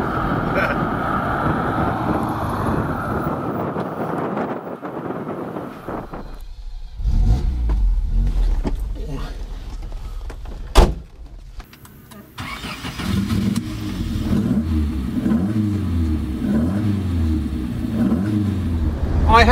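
An old Alfa Romeo 1750 GTV classic car engine approaches from afar and revs, the mid-pitched engine note growing louder with throttle blips, a pause, then a close steady idle and revving, with a little talk.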